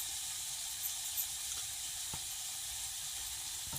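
Ground masala with onion-garlic spice, red chilli and turmeric sautéed in oil for a spicy amti, giving a steady, close, soft hiss of sizzling with a few faint clicks of stirring.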